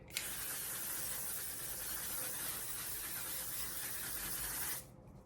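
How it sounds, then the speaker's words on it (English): L'Oreal Infallible 3-second setting spray misting out in one continuous hiss of almost five seconds, close and fairly loud, then cutting off sharply. "the L'Oreal Infallible 3-second setting spray, it's a lot like the One Size"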